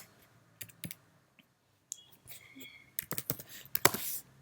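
Keystrokes on a computer keyboard while someone writes Java code, sparse single taps at first and then a quicker run of clicks near the end, close and fairly quiet.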